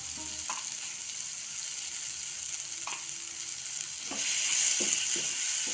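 Tomato puree with roasted besan cooks in a pan for lasooni palak, a soft steady sizzle and hiss with a few light spoon taps and clinks, growing a bit louder toward the end.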